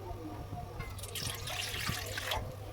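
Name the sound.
pouring water into wok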